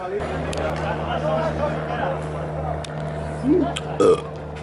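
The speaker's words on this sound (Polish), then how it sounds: "się odbiło nieprzyzwoicie" A man lets out two short, close burps while watching a Sarmata Warszawa football match, heard over a steady hum and a murmur of crowd and chatter.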